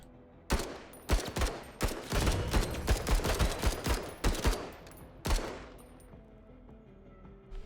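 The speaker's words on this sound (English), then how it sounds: "And we can shoot with the battle rifle too." Battle rifle gunfire in the turn-based strategy game Menace, a rapid volley of loud sharp shots in quick succession, then a pause and a final isolated crack.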